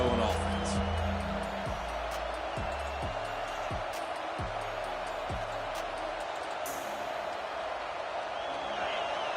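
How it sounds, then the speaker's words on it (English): A stadium crowd in College Football 26 roars as a constant, dense wall of noise under an announcer's voice, with rhythmic low thumps in the first half. "These fans are going absolutely nuts."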